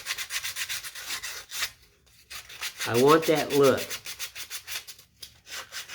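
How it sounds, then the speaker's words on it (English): Repeated scratchy back-and-forth strokes of sandpaper on a wooden folk art rooster, close up; someone speaks briefly mid-way, then the rhythmic sanding resumes. "I'm not going to get really crazy sanding all this"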